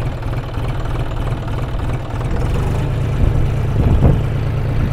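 A JCB backhoe's diesel engine runs steadily at close range, a loud, low throbbing idle that swells slightly toward the end, with no voices.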